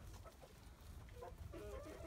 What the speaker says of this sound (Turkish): Bir tane horozumuz var.